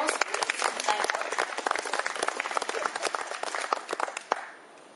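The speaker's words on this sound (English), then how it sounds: "Give a round of applause." A live-show audience claps for a dancing ASIMO robot, a dense, loud round of applause that runs unbroken for several seconds before trailing off near the end.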